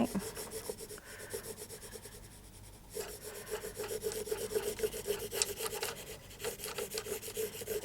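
Sandpaper rubbed across a textured concrete render surface gives a steady, scratchy rasp, with continuous strokes that grow louder and denser in the second half, close up and with no voices.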